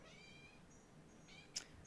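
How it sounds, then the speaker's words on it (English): A cat in heat gives a few drawn-out, wavering meows, faint and somewhat distant, over a quiet indoor background, with a brief sharp tick near the end. "If you hear meowing or any strange noises, I've got one cat in heat."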